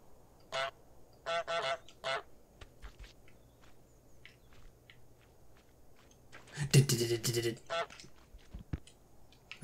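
Goose honking in Untitled Goose Game, several short, sharp honks in bursts, including a louder flurry, over quiet game ambience with a person talking in between.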